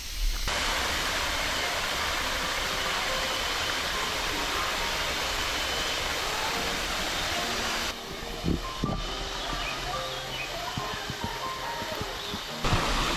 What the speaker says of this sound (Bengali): ঝর্ণার পানির যে আওয়াজ, আলহামদুলিল্লাহ খুব দারুণ লাগতেছে